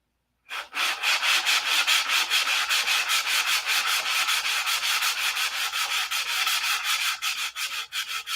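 Rhythmic hand sanding on wood, quick back-and-forth strokes repeating steadily and close up, with no voices; the sanding tone changes partway through.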